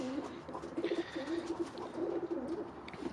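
Birmingham Roller pigeons coo softly at a loft door, a few low, rolling calls repeating through the short clip at moderate distance.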